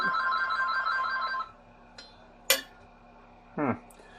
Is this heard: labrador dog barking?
no